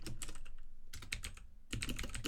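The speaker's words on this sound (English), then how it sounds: "my keyboard is really loud" A loud computer keyboard clatters in fast bursts of typing, two short pauses breaking up rapid close key clicks.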